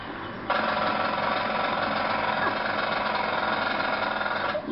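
A jackhammer weapon in the Worms video game starts up after a brief lead-in and rattles steadily and loudly for several seconds, a dense mechanical hammering that runs until the end.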